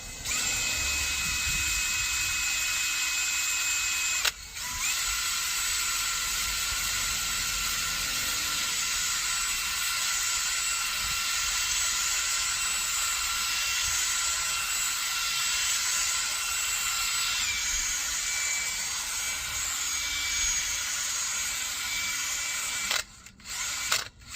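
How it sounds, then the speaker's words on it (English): A power drill whines steadily and loudly up close for a long stretch, gently drilling through rivets on a Citroen Relay van, pausing briefly near the start and again near the end. "I'm just going to drill through these rivets"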